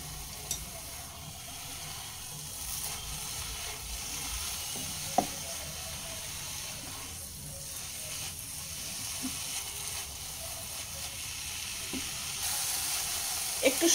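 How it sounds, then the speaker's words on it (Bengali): Jute leaves (pat shak) stir-frying in a pan over a medium flame give a low, steady sizzle, with occasional sharp scrapes and clinks as a spatula keeps turning the greens. "মিডিয়াম ফ্লেমে অনবরত এভাবে নেড়ে চেড়েই শাকের মধ্যে যে এক্সট্রা জল আছে সেটা শুকিয়ে আসা পর্যন্ত ভেজে নিতে হবে"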